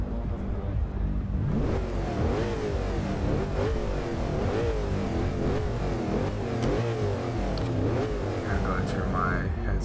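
A 2005 Mercedes-Benz SLR's exhaust in Forza Horizon 2 blares through repeated rising and falling revs, a loud throaty engine note that climbs and drops in pitch again and again, with a voice talking over it.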